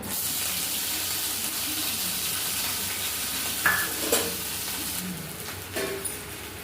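Ginger frying in mustard oil in a pan, a steady hiss of sizzling with a few sharp clinks and scrapes of a utensil toward the end.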